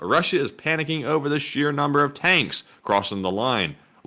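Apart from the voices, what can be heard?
No distinct noise like a dog, phone or traffic.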